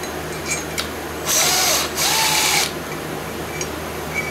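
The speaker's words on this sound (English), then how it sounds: "I'll get my electric zinger on here" An electric impact wrench (zinger) works an engine bolt during a cam and valve-spring job, giving two short, loud buzzing bursts back to back over a steady background hum.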